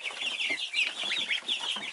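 A small group of baby ducks of five different breeds peep rapidly and continuously, high, thin chirps overlapping close by with no talking.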